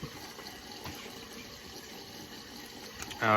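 Warm water running from a faucet into a sink before shaving, a soft steady stream at low level, swelling louder in the final moment.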